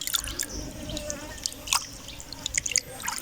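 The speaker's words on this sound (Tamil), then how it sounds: "ஓகே வடிவா கழுவி விடுங்கோ." A rock fish head is rinsed under water, close-up splashing and dripping with irregular sharp drips and trickles, fairly quiet, and nobody talking.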